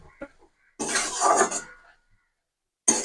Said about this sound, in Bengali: এবার একবার ঢাকাটা খুলে শাকটা নেড়ে দেবো